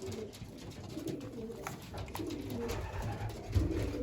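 Racing pigeons coo in a flooded loft with soft, overlapping low murmurs and a faint, busy background of rustles and small knocks.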